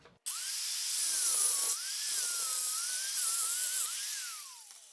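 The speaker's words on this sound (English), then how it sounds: "then I'll grind it flush" A grinder grinds a bolt flush on an engine during an EGR delete, a loud continuous high whine that starts abruptly, holds steady for over four seconds with slight pitch wobble, then tails off.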